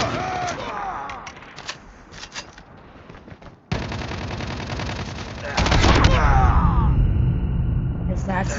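Rapid gunfire bursts from the mobile shooter game COD Mobile, with dense automatic volleys, sharp single shots and a brief silent gap before a louder sustained stretch of firing, as a player's voice talks over it.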